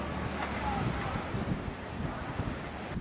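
Wind buffets the microphone in a steady low rumble on the Homer Spit, Alaska, gusting unevenly throughout with no clear voices.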